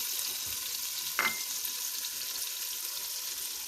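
Spices, tomato and green chillies stirred in a hot pan give a steady close sizzle with a couple of scraping spoon strokes early on, alone without talk.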